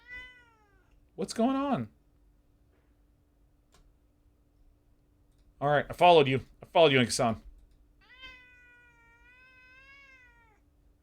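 A pet cat meows near a person at a computer, a few high harmonic-rich mews at the start and a longer drawn-out one near the end, with the person talking in between.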